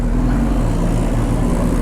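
A Kawasaki Z900 motorcycle engine drones steadily and loudly as the bike rides off, a continuous close rumble with no speech.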